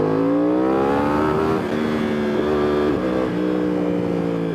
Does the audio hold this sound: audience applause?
no